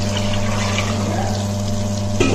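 Water pours steadily into a cooking pot for wheat rava, a loud continuous rushing stream with a low hum beneath and a small splash near the end.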